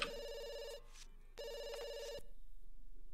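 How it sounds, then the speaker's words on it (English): A telephone in The Sims 2 rings with two electronic trilling bursts, fairly quiet and alone, followed by a low pulsing hum. "Ugh, is the phone ringing?"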